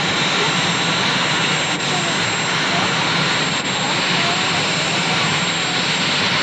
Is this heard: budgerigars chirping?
no